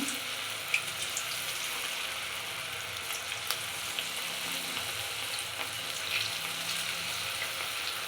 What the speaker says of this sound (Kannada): ಇವಾಗ ಎಣ್ಣೆ ಕಾಯ್ತಿದೆ ಇವಾಗ ಬಾಂಡ್ಲಿಗೆ ಹಾಕ್ತೀನಿ ಇವಾಗ ಹಾಕ್ತಾ ಇದ್ದೀನಿ